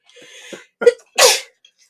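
A single close sneeze bursts out after a short wind-up of breathy inhales, loud and sharp, with nothing else around it.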